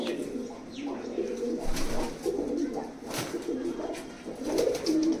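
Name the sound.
pigeons cooing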